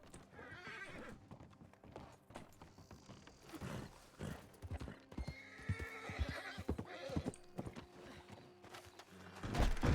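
A horse in the RedM game neighs and walks, with whinnies over clip-clopping hooves and some mechanical clatter, fairly close and steady throughout.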